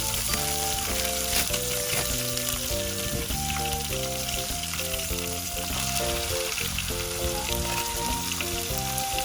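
Minced pork with red chili paste stir-fries in a pan with pickled bamboo shoots, a dense continuous sizzle with scraping stirring throughout while music plays over it.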